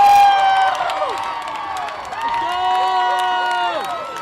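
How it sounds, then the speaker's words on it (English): Homecoming football crowd of Evanston Red Devils fans cheering and whooping loudly in a stadium, with whistles and shouts layered over a sustained roar. "That is the sound of the fans of the soon-to-be"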